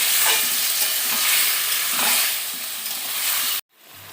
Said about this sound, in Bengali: নেড়ে দেবো ভালো করে